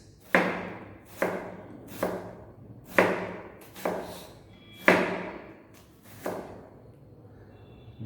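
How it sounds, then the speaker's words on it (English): A knife slices horizontally through an onion on a cutting board: seven or eight distinct, crisp cuts land close by at a fairly even pace, each a sharp knock followed by a short fade. "we hold the onion like this and we start slicing"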